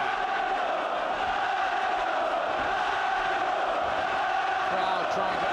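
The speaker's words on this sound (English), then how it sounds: "Crowd trying to urge Ben on with chants of Nigel." A dense boxing arena crowd chanting Nigel to urge Nigel Benn on against Collins, a loud continuous roar of many voices with rhythmic chanting and no pauses.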